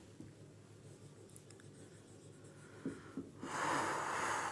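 Marker or chalk scratching out writing on a board, soft intermittent strokes, then a brief louder burst of scraping near the end, no voices.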